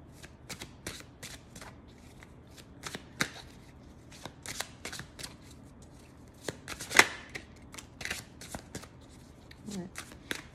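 Tarot cards being shuffled: a continuous series of soft, close riffles and papery flicks in an uneven rhythm, with a louder slap of the deck near the middle, all fairly quiet.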